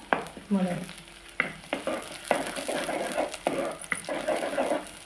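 Onion and tomato sizzle loudly in a hot pan for a prawn curry while a spoon stirs and scrapes in repeated bursts, the frying rising and falling with each stir.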